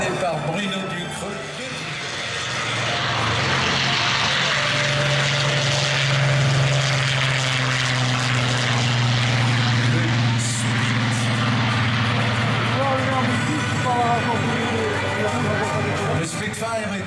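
A propeller plane drones overhead at an airshow, a steady low engine hum that swells and fades gently, with voices and background commentary over it.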